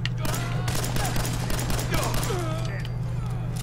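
Rapid gunfire from a 10mm auto pistol in the video game Fallout 4, a fast run of loud, close shots over a steady low hum, with talking briefly mixed in.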